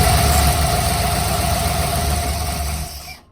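A junkyard Ford Mustang Cobra idles after its first start in 20 years, with its serpentine belt off. The engine gives a loud, close, steady low rumble and then cuts off abruptly at the end.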